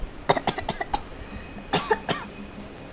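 A person coughs in rapid clustered bursts, two quick fits of several harsh coughs each, close and loud in a quiet room.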